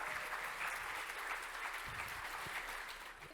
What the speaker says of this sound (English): Let's give him another round of applause for his keynote.